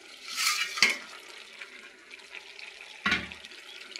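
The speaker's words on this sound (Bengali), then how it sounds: "এখন আমি এই যে মাছগুলো দিয়ে দেব" Pieces of rohu fish drop into a pan of winter bean and eggplant curry. Two splashy, sizzling bursts come a few seconds apart over a faint background hiss.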